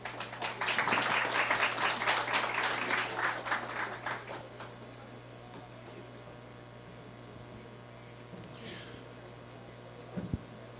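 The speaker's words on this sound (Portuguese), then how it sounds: "Por favor, uma salva de palmas, Paulo Inácio Prado." Audience applause for a speaker at a Brazilian election-debate event, with dense clapping over the first four seconds that thins and fades, leaving room tone and a faint mains hum.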